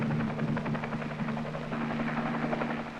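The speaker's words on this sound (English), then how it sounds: "Three hours later, an ARVN helicopter landed." A South Vietnamese army helicopter in Vietnam, 1963, drones steadily with a low rhythmic hum and buzzing rotor pulse, sustained and fairly close throughout.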